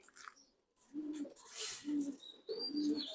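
Racing pigeons coo nearby in three low, throaty phrases, with faint chirps from other birds in between and no talking.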